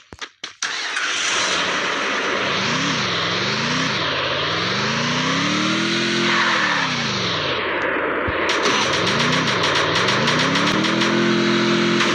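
A car is driven in the Free Fire video game, its engine revving in rising and falling sweeps as it accelerates, loud and close, after a few sharp bangs at the start.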